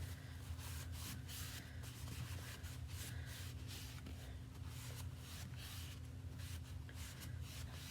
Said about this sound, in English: I'm just gonna clean it before we chalk on it